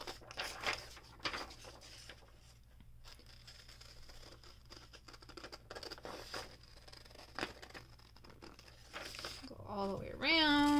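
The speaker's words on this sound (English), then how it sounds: "Just going to cut right on the edge." Scissors snip and crinkle through paper while cutting out a mask pattern along its edge, soft close clicks and rustles spread through the clip.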